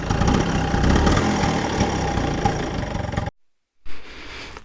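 The exhaust of a 1976 Vespa 2-stroke vintage scooter idles nearby with a loud, rough, rapid putter for about three seconds, then cuts out abruptly before faint noise returns.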